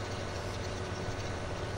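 Tractor engine in the farming game Farming Simulator 15, running steadily with a constant low rumble and broadband drone, close and moderately loud with no talk over it.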